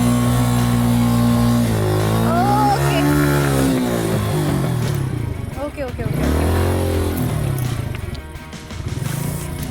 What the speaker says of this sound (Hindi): अच्छा, बाइक चलाना ऑफ रोडिंग पे is not that much easy.